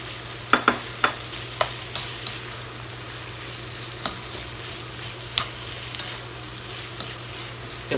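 Egg and cooked rice stir-fried in a wok for fried rice, with a faint steady sizzle underneath and a handful of sharp scraping, clattering stirs bunched near the start, then sparser strokes later.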